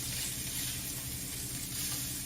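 Rainbow trout sears in a hot pan, skin side crisping, giving a dense, continuous close-up sizzle with no voices.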